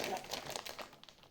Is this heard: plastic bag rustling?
yes